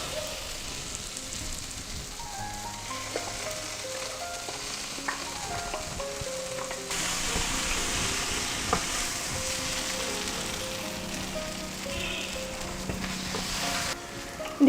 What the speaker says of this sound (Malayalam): നമുക്കിനി കോക്കനട്ട് ഈ മസാലയും കൂടെ ചേർത്ത് കൊടുക്കാം.